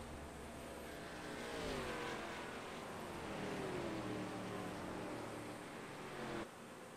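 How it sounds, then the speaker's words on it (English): Race car engine in a racing video game under caution, a steady continuous drone with gliding pitch sweeps as the car accelerates to catch the pace car, moderately loud and unbroken, cutting off abruptly near the end. "the car is trying to catch back up to the pace car"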